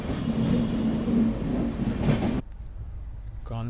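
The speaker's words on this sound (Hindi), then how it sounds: "कानपुर सेंट्रल पर अभी अपनी राजधानी एक्सप्रेस को यहाँ पे एंट्री दी है" The Rajdhani Express rolls into Kanpur Central with a loud, steady rumble and rattle heard from on board. After about two seconds it drops off sharply to a quieter background.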